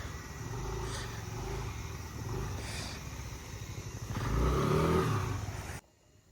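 A motorcycle engine running and revving nearby, a rough steady drone that swells louder before cutting off abruptly near the end.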